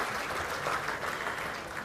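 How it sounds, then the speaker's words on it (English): Steady audience applause at an ethnic business awards gala dinner, a dense, even wash of clapping that holds at a constant level for the whole stretch. "How about a round of applause for Salem and all of our small business finalists tonight."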